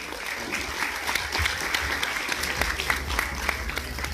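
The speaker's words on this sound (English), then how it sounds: "A big round of applause for Chef Som and team from Nevermind" An audience claps steadily, a dense patter of applause at moderate distance that holds even throughout.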